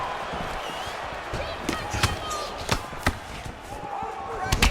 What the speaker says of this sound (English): Big head kick.